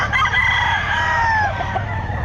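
A rooster crows once in a long, loud, drawn-out call at a pet market, with steady crowd and market noise filling the background.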